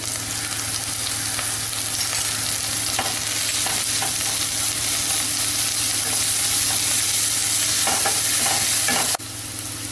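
Ginger and garlic paste fry with browned onions, green chilies and curry leaves for mushroom biryani, giving a loud, steady sizzle with occasional stirring scrapes that drops off abruptly near the end.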